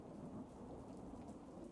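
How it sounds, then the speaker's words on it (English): Rain with rolling thunder played as ambience for a tabletop roleplaying game, a steady low rumble under continuous rainfall, quiet and unbroken. "I would say by now the rain is starting to let up a bit."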